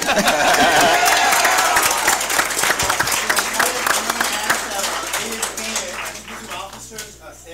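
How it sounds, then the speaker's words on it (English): Audience applause at a school district meeting, a loud, full burst of clapping from a crowd that gradually thins and fades over several seconds, with some voices underneath. "let's give Ms. Noriega a big round of applause"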